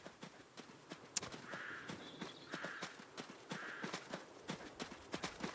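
Hooves of a horse in a video game clip-clop at an even walking pace, fairly faint, with soft background game sounds.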